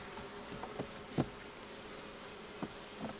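Honey bees hum at a hive in a faint, steady drone close by, with occasional soft knocks and taps breaking through.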